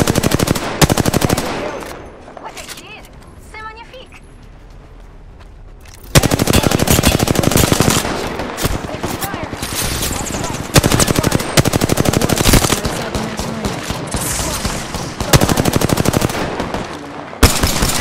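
Light-weapon gunfire in the video game Apex Legends rattles out in loud, rapid automatic bursts, pausing briefly early on and then firing almost continuously, with a short voice heard near the start.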